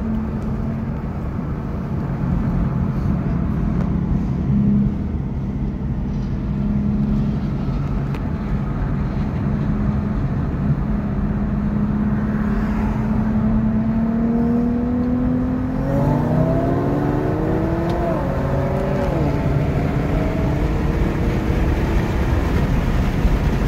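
A Chevrolet Camaro SS and an Infiniti G37 race side by side, engines droning loudly and steadily, the pitch climbing through the run with gear changes near the end.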